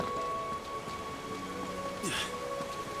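Rain falls in the video game Final Fantasy XVI, a steady, soft hiss of drops with faint low rumbling and a brief brighter splash partway through, with no talking.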